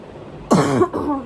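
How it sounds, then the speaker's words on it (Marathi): A single harsh cough up close from a woman who is ill, followed by a brief throaty rasp, in an otherwise quiet room. "थोडासा खोकला आहे मला"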